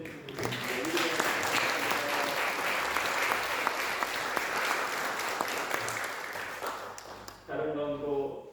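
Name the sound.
congregation applause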